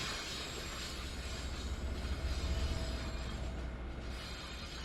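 Long Island Rail Road trains rolling past on the Northeast Corridor between New York and Trenton in Train Sim World, a steady broadband rumble with rail noise that swells slightly midway, no talking.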